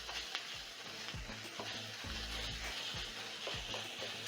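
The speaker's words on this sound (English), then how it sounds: "as the minced meat is cooking, the carrots also are going to soften up. My meat is already browning" Minced meat browns with carrots in a pan for spaghetti bolognese, giving a soft, steady sizzle broken by occasional scraping stirs, fairly quiet and with no talking.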